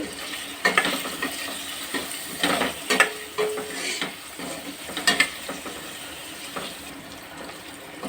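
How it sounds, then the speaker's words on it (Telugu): Paneer fries with turmeric for paneer capsicum curry, making a steady sizzle broken by repeated stirring scrapes and clatter, with watery hiss in between. "కొంచెం పసుపు వేసుకుని ఫ్రై చేసుకోవాలి"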